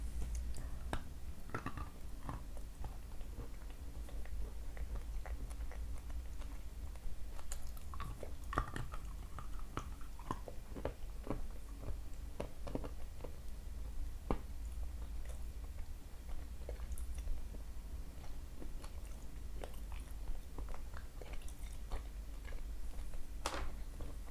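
Small granules are bitten and chewed close to the mic, a long run of scattered crisp crunches and clicks over a low steady background hum, with no talking.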